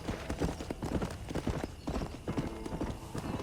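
Horse hooves clip-clop steadily at a riding pace in Red Dead Redemption, close and clear, with a few faint whinnies over busy background sound.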